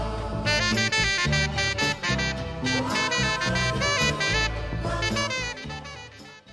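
A short passage of a 1967 track plays, with steady band instrumentation: a bass line, chords and a bright melodic line carried along continuously, ending with a slight fade.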